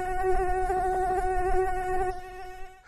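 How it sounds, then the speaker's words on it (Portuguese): A mosquito buzzes in a steady, close, whining drone with a slight wavering pitch that fades out near the end. "Mosquito vindo do outro lado do mundo."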